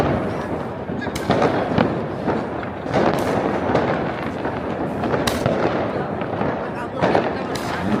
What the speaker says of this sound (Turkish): Şu an tam arkamda bir yandan hava fişekler patlıyor